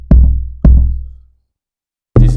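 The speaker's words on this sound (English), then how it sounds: "I added the log drum from Log Drum VST." Two deep, booming log drum hits from a Log Drum VST ring out and decay slowly, followed after a pause by a third punchy, brighter hit.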